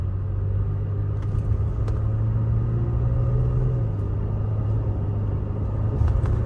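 A tuned Toyota Tacoma pickup's engine gives a steady, close, low rumble that holds fairly even throughout, with no voices over it.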